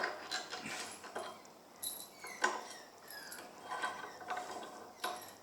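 A store-brand mini vice is tightened lightly on a screw thread, with quiet clicking, ratchet-like mechanical turns and small metallic scrapes in short irregular bursts, close and soft.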